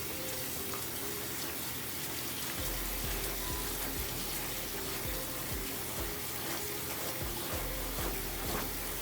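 Running water from a tap pours steadily while hair brushes and durags are washed in a sink, with a continuous rushing splash and irregular low thumps and sloshes as items are handled under the stream; no one speaks.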